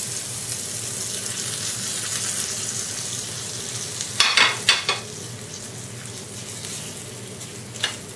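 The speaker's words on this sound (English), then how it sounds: "quickly add this seasoning to the chutney" Hot tempering with asafoetida poured and stirred into coconut chutney, a steady frying sizzle throughout with a few sharper crackling bursts and scrapes midway, no talking.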